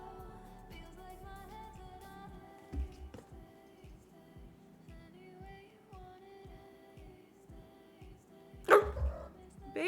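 A person imitates a dog barking, with a few sharp bark-like bursts and one loud burst near the end, set against steady rhythmic dance music.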